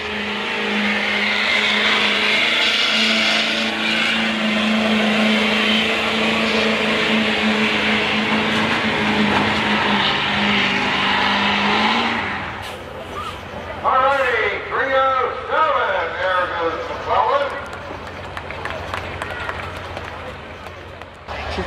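A Ford diesel 4x4 truck roars under heavy load at a truck pull, a loud sustained engine drone for about twelve seconds before cutting off, followed by crowd noise and a voice over an announcer system.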